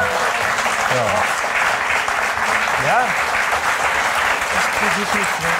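Studio audience applause on a German cooking show, a dense steady patter of clapping filling the whole stretch, with a brief spoken word and faint voices under it.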